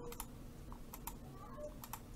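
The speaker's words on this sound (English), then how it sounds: "You just keep clicking." A computer mouse clicks repeatedly during photo editing in GIMP, with sparse, sharp, quiet taps at uneven intervals over a soft background hum.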